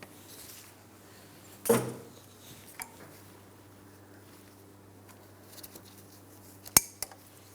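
Wire-tie excess trimmed with cutters while fitting a boot to the power steering rack of a 2004-2008 Pontiac Grand Prix: one sharp metallic snip near the start and another later, close and clear over a quiet background.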